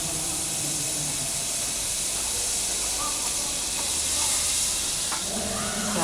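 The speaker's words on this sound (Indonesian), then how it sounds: "Berikutnya kita akan memanaskan daging." Meat heating in a pan over medium heat gives a continuous, loud, broadband sizzling hiss that stays steady for the whole stretch, with faint scraping touches near the end.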